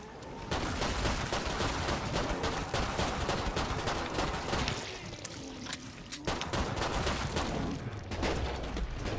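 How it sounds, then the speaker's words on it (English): Rapid gunfire from Killing Floor 2 in a co-op match, with dense, loud bursts of automatic shots and overlapping volleys that pause briefly near the middle before resuming. "I was shooting enemies."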